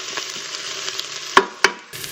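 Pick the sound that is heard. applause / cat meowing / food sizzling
food sizzling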